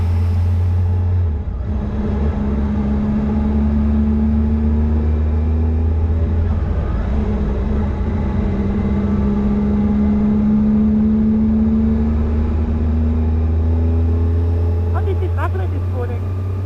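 A Triumph Tiger 800 XRT motorcycle slows down on a mountain road, its engine a loud steady drone that falls in pitch as it decelerates, with a rider talking over it.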